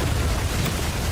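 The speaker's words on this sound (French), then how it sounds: "les explosions en chaîne" Chain explosions in the video game 007 First Light make a short, loud, continuous burst of deep rumbling noise with no clear gaps between blasts.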